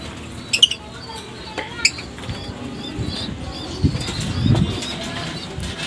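Pigeons being released by a loft keeper in Rizal burst into flight, with a few sharp wing-flap flurries near the start and softer flapping and rustling throughout, light background noise under it.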